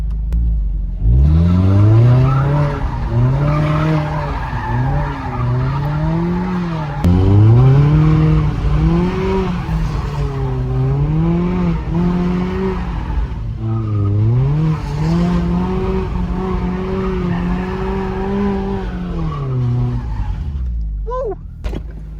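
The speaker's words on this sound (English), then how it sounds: "It's time to do some donuts." A Mazda MX-5 ND2 does donuts in an empty, rain-wet parking lot, its engine revving in repeated rising and falling sweeps while the tires skid and squeal, loud and continuous for about twenty seconds.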